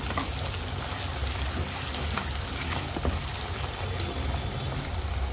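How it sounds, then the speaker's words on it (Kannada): Dry curry leaves fry in hot oil for a beans palya, a dense, continuous close sizzle with scattered small pops and crackles. "ಹಸಿ ಕರಿಬೇವು ಇರಲಿಲ್ಲ ನನ್ನ ಹತ್ರ, ಹಾಗಾಗಿ ಒಣ ಕರಿಬೇವನ್ನ ಸೇರಿಸ್ಕೊಂಡು ಫ್ರೈ ಮಾಡ್ಕೊಳ್ತಾ ಇದ್ದೀನಿ."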